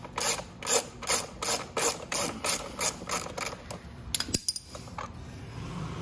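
A ratchet wrench works a tight bolt loose on a Venom E-Grizzly electric ATV, clicking in a run of about a dozen quick, even bursts, then a few sharper metallic clicks and a lighter, irregular ratcheting tail, close and clear.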